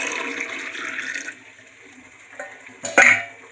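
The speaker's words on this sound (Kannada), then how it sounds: "ಸ್ವಲ್ಪ ಬಿಸಿನೀರು ಹಾಕೊಳ್ಳೋಣ" Hot water runs and splashes steadily for about a second, then falls quiet before a short, louder burst of pouring near the end.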